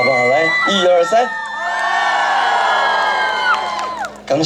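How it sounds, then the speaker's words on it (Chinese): A crowd at a school evening concert for a water-resources awareness event screams and cheers, rising into a sustained wall of high-pitched shrieks and whoops that holds for a few seconds before fading. "全场来点尖叫声，我听一下好不好？"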